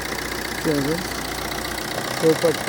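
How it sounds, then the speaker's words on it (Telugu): A 2012 Maruti Ritz VDI diesel car idles with a steady, even engine hum, while someone talks over it for most of the clip. "ఇంజన్ బీటింగ్ కూడా బాగుంది."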